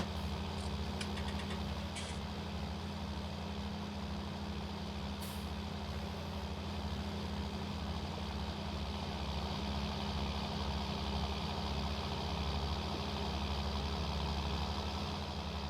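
A tractor engine idling in a farming video game, giving a steady, low, continuous rumble that stays even throughout, close and unbroken, with a couple of faint clicks near the start and no talking.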